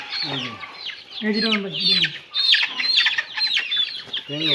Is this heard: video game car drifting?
no